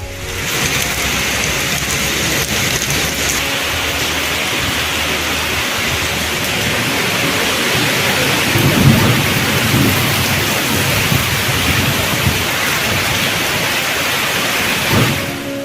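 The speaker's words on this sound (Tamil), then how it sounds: "பெரும்பாலான பகுதிகளில் சுமார் 2 மணி நேரத்திற்கு மேலாக மழை கொட்டி தீர்த்தது." Heavy rain pours steadily and loudly in a Tamil Nadu downpour, a dense continuous hiss with low rumbles of thunder rising around the middle and again near the end.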